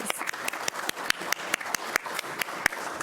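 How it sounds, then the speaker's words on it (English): A round of applause at a city commission meeting: sparse, distinct claps from a small group in a room, steady and moderately quiet, with no talking over it. "let's have a round of applause for all of our superstars"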